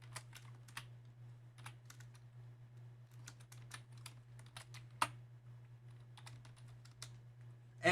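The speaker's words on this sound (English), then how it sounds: "I'll type in the second equation" Buttons on a TI-Nspire calculator are tapped out while an equation is typed, giving quick irregular clusters of soft clicks over a steady low hum, with one sharper tap near the end.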